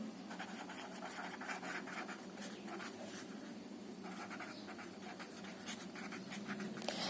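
Steady scratching of writing on a board during a class-10 maths lesson, close and fairly quiet, with irregular stroke bursts continuing throughout.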